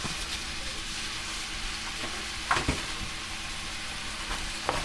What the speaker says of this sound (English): Stir that up in there. Put my peppers in there.